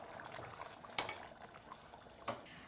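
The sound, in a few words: beef stew simmering and bubbling in a pot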